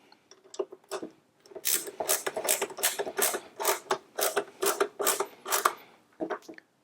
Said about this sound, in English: I'm ready to go ahead and put the rear cover screws back into position.